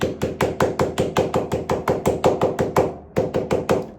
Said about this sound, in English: Just a wee rubber mallet.